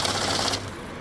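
A fast, steady whirring flutter of a cash counting machine riffling through banknotes, loud and close, then cutting off to a quieter hum.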